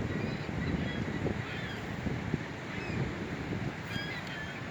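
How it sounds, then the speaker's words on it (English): A large flock of seagulls near the Venice Beach pier gives faint, scattered cries over a steady wash of wind and surf, with no voices, the calls thin and distant. "Estimated 170 seagulls."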